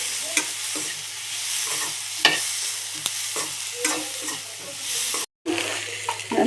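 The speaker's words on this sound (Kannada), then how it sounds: "ಸ್ವಲ್ಪ ಎಣ್ಣೆ ಹಾಕಿಕೊಂಡು ಕಂದು ಬಣ್ಣ ಬರುವವರೆಗೂ ಹುರಿದುಕೊಳ್ಳಿ." Biryani ingredients fry in a little oil with a steady sizzle while a spoon scrapes and stirs the pan in repeated strokes, close and moderately loud, with a brief dropout near the end and no speech.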